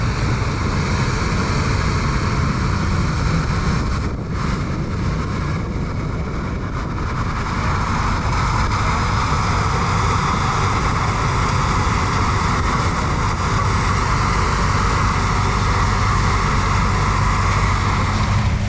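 A Massey Ferguson 9S tractor and harvest machinery at the Farm Progress Show run with a steady, loud, low engine drone that holds throughout.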